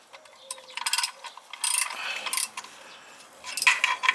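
A ratchet with a Torx bit tightens the oil drain plug on an Opel/Vauxhall Corsa C, giving several short bursts of close, crisp clicking separated by brief pauses.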